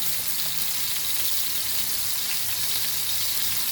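Crab pieces for Goan crab sukka frying in hot oil in a pan, a steady close hiss and crackle of sizzling that holds evenly throughout with no talking.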